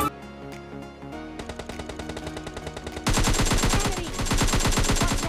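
Rapid automatic gunfire rings out in the online shooter PUBG Lite, first scattered shots, then a quick regular burst of rounds, then louder, denser sustained firing close by.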